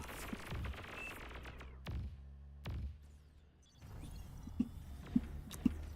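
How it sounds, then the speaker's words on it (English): Light tanks clash in a Beyond All Reason battle, with bursts of gunfire and sharp impact reports. Quiet stretches fall between them, and a few distinct shots come near the end, fairly faint overall. "Blue team Rolling Panzers got some light tanks going to engage the red team."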